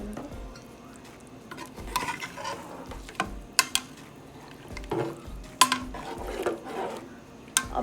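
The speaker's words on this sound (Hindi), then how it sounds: "अब हम इसमें डालेंगे अपने चावल।" Uncooked rice tipped into mutton masala in a pressure cooker for a mutton pulao, giving soft scraping, stirring and clinking against the metal pot in a series of brief close bursts, no talk.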